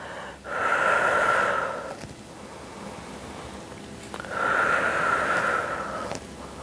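Deep breaths in and out during a muscle-strengthening workout, two long audible exhalations about four seconds apart, close and fairly loud with no talk.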